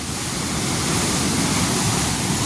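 River water in flood near a waterfall, a loud, dense, continuous roar of rushing water, close and unbroken.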